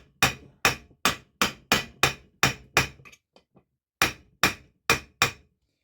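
Hammer tapping a part into place during restoration of a 1959 NSU Quickly 26N motorcycle: eight sharp, evenly spaced metallic knocks, a few faint ticks, a short pause, then four more close, crisp taps.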